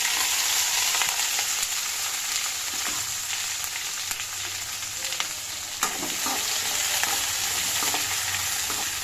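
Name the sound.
chopped green chilies frying in coconut oil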